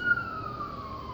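An ambulance siren passes on a busy city street, a steady, loud wail sliding slowly downward in pitch as it moves by, with no talking.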